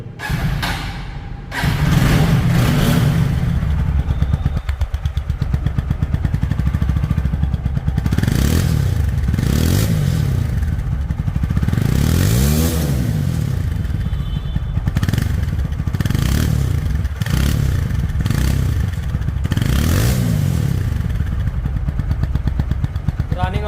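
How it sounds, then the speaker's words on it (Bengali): A second-hand TVS Apache 4V ABS motorcycle in like-new condition starts, then its engine is revved again and again, each throttle blip rising and falling loudly and up close over a steady idle. "তো এখন বাইকটির সাউন্ড শুনুন"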